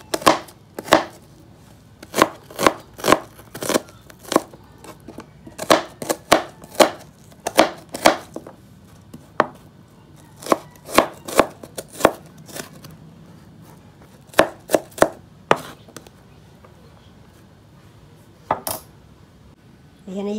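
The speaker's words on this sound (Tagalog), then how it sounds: "hiwa-hiwain lang natin ng maliliit yung ating sibuyas" A knife dices an onion into small cubes on a cutting board, with sharp irregular chopping knocks in quick bursts and short pauses between them.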